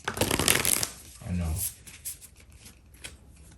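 A deck of tarot cards is riffled briskly, a quick flurry of papery flutters, followed by a softer shuffle and a person speaking.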